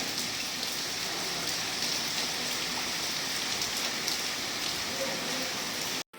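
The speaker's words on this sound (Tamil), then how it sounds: "கேட்டுச்சா மழை சத்தம்?" Steady rain falls during a rainy day at a family home, a dense, even hiss of drops on surfaces that holds at constant loudness for several seconds before cutting off abruptly at the end.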